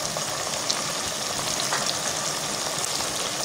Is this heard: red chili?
yes